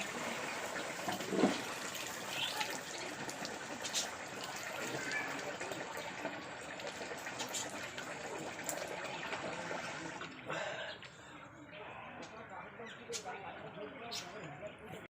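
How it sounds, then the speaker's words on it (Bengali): Rice being washed in water in a home kitchen, soft swishing and sloshing with a few splashes and small clinks, faint and close, while a person talks over it. "চলো এবার ভালো করে চালটা ধুয়ে নিই"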